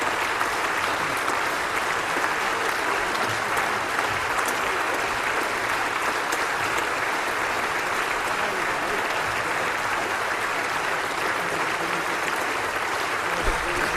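Members of the Coalition applaud and cheer at a budget reply event, a dense, continuous wash of clapping from a large crowd that holds at an even level throughout.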